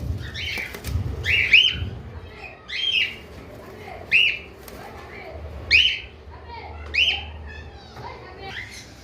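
Parrots, including eclectus, grey parrots, cockatiels and conures, give repeated shrill squawks and whistles, several calls spaced a second or two apart, close by, with some background noise and faint voices.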